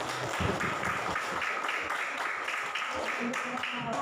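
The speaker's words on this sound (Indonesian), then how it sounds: "tepuk tangan untuk kita" Classroom students clap together in dense, steady applause that fills a few seconds, with faint voices mixed in.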